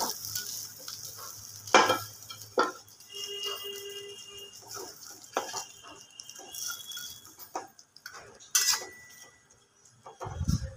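Bata fish goes into a pan for bati chorchori, with a soft, steady sizzle broken by intermittent clinks and scrapes of a utensil stirring against the pan.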